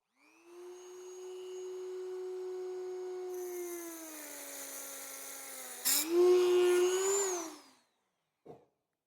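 A cutoff wheel grinds through the outer cage of a carrier bearing with a steady high whine that rises in pitch as the wheel spins up, then shifts to a harsher, louder cut before stopping, followed by a short clack.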